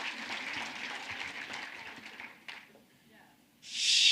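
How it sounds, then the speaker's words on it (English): Audience clapping at a university lecture event, a broad steady wash of applause that thins and fades out, followed by a rising burst of noise at the end. "you can applaud"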